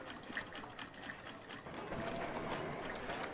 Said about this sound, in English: That sounds like ducks working at a sewing machine.